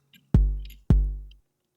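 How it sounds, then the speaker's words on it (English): Two solid, tonal 909 drum machine kicks, each a sharp click dropping into a deep, steady boom that rings for about half a second, struck alone and spaced evenly. "a 909 kick sounds something like this"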